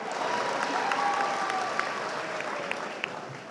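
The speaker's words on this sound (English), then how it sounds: "Yeah, you can applaud for that." Audience applause fills a commencement ceremony hall, a steady dense wash of clapping from a large crowd with a few faint whistles, holding at even volume throughout.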